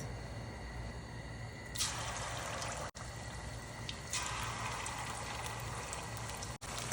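Chicken kofta sizzles in hot oil, a steady broadband hiss that swells louder partway through as more pieces hit the pan, with brief gaps and no talking.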